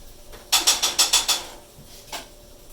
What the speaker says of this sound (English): Over here stirring the onions again.